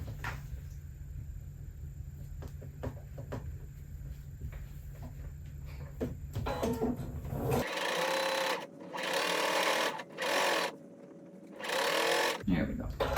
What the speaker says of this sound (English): I'm going to sew it to this other piece right like so